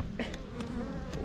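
Honey bees being built up for almond pollination buzz around an open hive, a close, soft drone of many wings with individual bees passing near.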